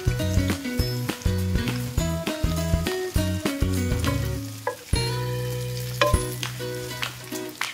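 Shrimp sautéed in a pan with garlic, onion and ginger: a loud, close sizzle runs under a tune of repeated tones, likely background music, with occasional clinks from the pan.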